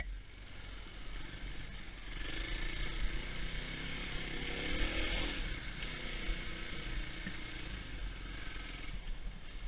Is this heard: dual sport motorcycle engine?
yes